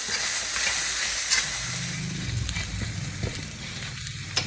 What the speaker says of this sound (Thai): พอใส่ลงไปแล้วก็ เบาไฟนะคะใช้ไฟอ่อนนะคะ ผัดไปสักพักนึง ให้เครื่องของเราเหลืองนะคะ